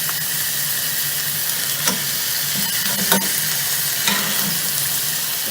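Beef steaks sizzle steadily in a hot pan while tongs hold them in place, a continuous close frying hiss with a few brief clicks and scrapes.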